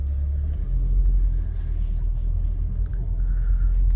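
A Subaru WRX with a CVT pulls away in sport mode, its engine rumble deep and steady from inside the cabin, loud and continuous with a slight rise as it accelerates.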